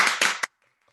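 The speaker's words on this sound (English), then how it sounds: "Give him a big hand first, please." Brief burst of audience applause at an online poetry open mic, a few dense seconds of clapping hands that stops abruptly, leaving near silence.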